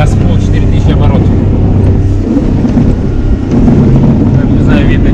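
Off-road vehicle engine revving hard at around 4000 rpm in low-range third gear during a goose-hunting trip, a loud continuous roar with wind buffeting the microphone and people talking over it.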